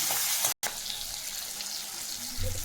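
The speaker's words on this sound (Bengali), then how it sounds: "এবার আমি তেলের মধ্যে দিয়ে দিলাম পেঁয়াজটা" Onion and tomato frying in hot oil in a pan, a continuous close sizzle and crackle with a brief gap early on and a little stirring toward the end.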